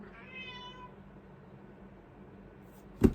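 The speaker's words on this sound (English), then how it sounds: "see what this cat's crying about" A cat meows in a short, wavering cry at moderate distance, then the sound fades into quiet room tone before a sharp bump at the end.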